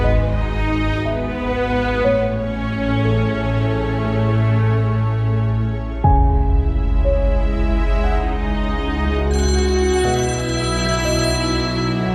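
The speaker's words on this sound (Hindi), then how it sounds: "फोन तो उठाओ" A telephone ringtone plays continuously and loudly, a melodic electronic tune in steady repeating phrases with no talk over it, in the middle of a tense domestic scene.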